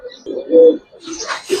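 A young Giribaz pigeon gives a short, soft low coo, then a brief scratchy rustle follows, close by.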